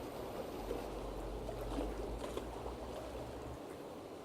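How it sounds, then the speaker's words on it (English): Ocean water in the Zak McKracken adventure game, a steady low watery wash with a faint dripping, trickling quality, continuous and fairly quiet with no talking. "This ocean actually sounds more like a leaky faucet than an ocean."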